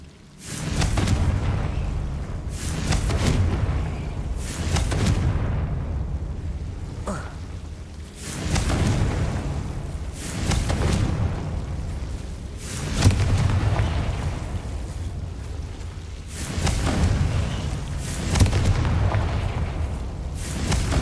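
Confringo fire spells cast in the Hogwarts Legacy video game burst as a string of loud, booming explosions, about one every two to three seconds, each followed by a rumbling tail under a steady background din.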